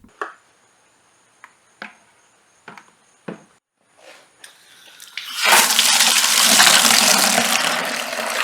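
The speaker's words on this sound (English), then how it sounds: "So step one is going to be filling the car wash bucket with some water and some car wash." A car wash bucket is first handled with several sharp clunks and taps, then water from a hose or tap gushes in loudly and continuously, a rushing splash that fills the second half.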